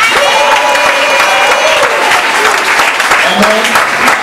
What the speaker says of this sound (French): Acclamez pour eux, s'il vous plaît.